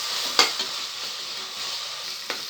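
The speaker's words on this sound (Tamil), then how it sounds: "இப்போ நம்ம வந்து இந்த இஞ்சி பூண்டு விழுது போட்டுக்கலாம். கொஞ்சம் சிம் பண்ணிக்கலாம். அது நல்லா பச்சை வாசம் போகிற வரைக்கும் நம்ம வதக்கிப்போம்." Onion and ginger garlic paste sautéing in a pan for vegetable biryani: a steady close sizzle with a sharp spatula scrape near the start and another stir stroke toward the end.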